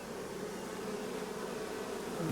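Honey bees swarm around a nucleus hive, a thick continuous buzzing drone that stays steady and close throughout.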